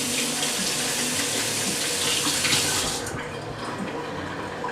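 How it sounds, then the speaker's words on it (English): A kitchen tap runs loudly and steadily while hands are washed beneath it, then the flow is cut back and the rush of water softens to a gentler trickle. The sound is close, with no talking. "I'm going to wash my hands quick before I touch anything else."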